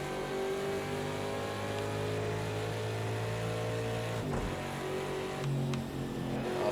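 IMSA Ford Mustang race car engine at Road America, droning at steady revs up close before the throttle lifts for a turn entry, the pitch dropping with a brief pop and burble, no talk.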